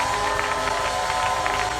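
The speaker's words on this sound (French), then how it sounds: "Donne des acclamations nourries à Jésus." A church congregation at a French-language seminary service cheers and acclaims Jesus, producing a dense, continuous roar of crowd voices and applause at steady loudness.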